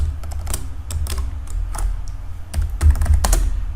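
Close, quick tapping on a computer keyboard while C++ code is typed, irregular bursts of keystrokes with a few heavier thumps, steady and alone.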